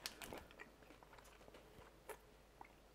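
Someone bites and chews a crunchy chocolate Plenny meal-replacement bar, with close, quiet crunches and chewing sounds coming in irregular bursts, the sharpest one near the start.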